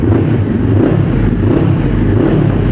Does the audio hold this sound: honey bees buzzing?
no